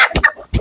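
Andijan black hens and roosters give a few short, close clucks in quick succession, with no voices present.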